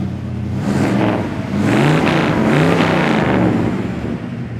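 A 1955 Chevy Bel-Air's engine revs loud and close, climbing in two rising pulls over a steady low idle rumble, with no talking.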